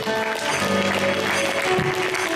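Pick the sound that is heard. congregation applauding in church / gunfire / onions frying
congregation applauding in church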